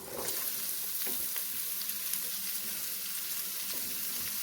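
Green chilies and freshly added onions fry in a pan with a steady, even sizzle throughout, broken by faint scrapes and taps, with no voices.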